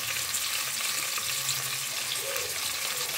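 Onions and okra pieces frying together in a pan, giving a steady, continuous sizzle with a faint watery hiss throughout and no voices.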